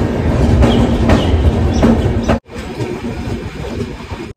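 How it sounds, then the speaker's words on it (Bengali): Jammu Tawi Express pulls out on its rails, a loud rolling rumble with faint periodic clatter, then an abrupt break followed by a quieter continuing run. "একেবারে সঠিক সময়ে ট্রেন ছেড়ে দিল।"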